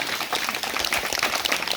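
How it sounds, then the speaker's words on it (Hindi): A church congregation gives a short burst of dense, steady applause for Jesus Christ during a healing and prayer service. "सब ताली बजाएंगे यीशु मसीह के लिए।"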